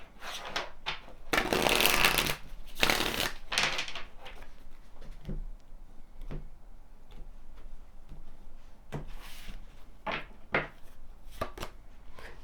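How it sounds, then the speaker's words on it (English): Tarot cards are shuffled and handled at close range in quiet, a flurry of papery riffling early on followed by scattered soft taps and slaps of cards being laid down. "as we pull some more tarot cards"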